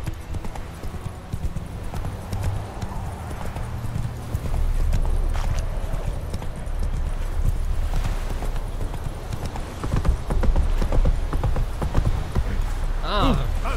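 Roach, the horse in The Witcher 3, gallops with steady rapid hoofbeats through the whole stretch, joined by occasional snorts and a rider's voice speaking over the running.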